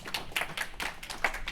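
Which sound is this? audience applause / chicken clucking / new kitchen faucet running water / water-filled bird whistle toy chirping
audience applause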